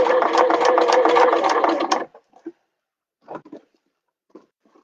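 A sewing machine stitches a fabric bag in a fast, steady mechanical whir up close for about two seconds, then stops, leaving a few faint taps and handling sounds.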